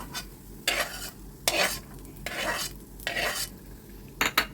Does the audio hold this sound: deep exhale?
no